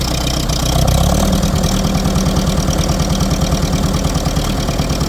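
A Ferguson TED20 tractor with a backhoe fitted runs close by, its engine idling loud and steady with a rhythmic low chugging pulse and a brief rise in revs near the start, no voices over it.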